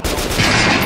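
Gunfire at a practice target in Metro Last Light, a loud, close burst of shots with a dense crackling tail over about a second.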